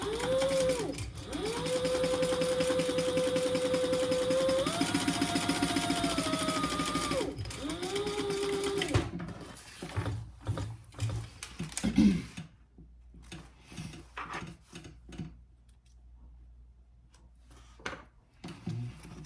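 Sewing machine stitching across the seam allowance of a fabric clutch wallet, running steadily for about nine seconds with changing motor pitch, then short stop-start bursts of stitching with handling noises.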